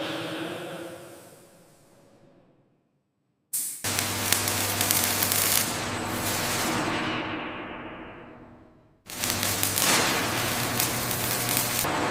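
Steady broadband hissing spray bursts on and off from a robotic system applying clear coat to a maglev vehicle shell, cutting to near silence between long blasts of pressurized mist.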